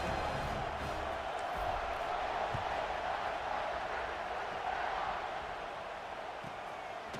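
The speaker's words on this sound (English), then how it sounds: "this crowd is buzzing after that last score" Stadium crowd in the College Football 26 video game keeps up a steady, diffuse buzzing roar through the whole stretch, with no clear voices on top.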